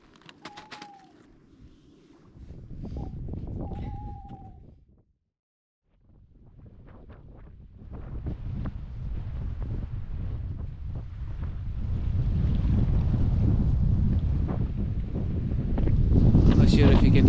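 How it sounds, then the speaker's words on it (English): Strong wind buffets the microphone beside Fionn Loch near Poolewe, Scotland, during a packrafting trip, a loud rumbling roar that drops out briefly, then returns and builds steadily louder. "I'm not sure if you can hear with the wind or not"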